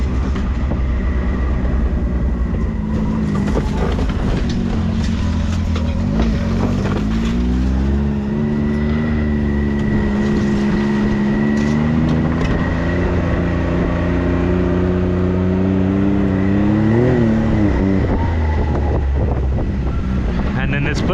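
A Can-Am Maverick X3 Turbo runs around a motocross track on overgrown ground with a step-down jump and hill. Its engine drones loudly and continuously, the pitch rising and falling with throttle, and wind rushes across the microphone.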